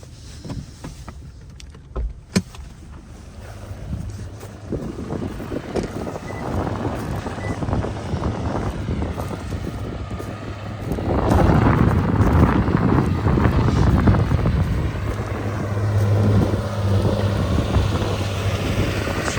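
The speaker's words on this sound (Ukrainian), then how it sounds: "покажу вам всю красу роботи трактора" A tractor engine drones steadily as it pulls a plough through a field, with wind buffeting the microphone, and the rumble grows louder and heavier partway through as the machine works.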